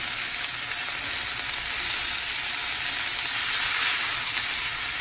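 Greens wilting in a hot pan: a constant, close hiss of sizzling oil and moisture with a gentle swell partway through, and no voices.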